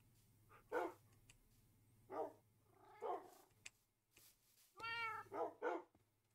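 Cats in the Minecraft video game meow in short separate calls spread across several seconds, along with a few dog-like barks, all fairly quiet with a low steady hum beneath.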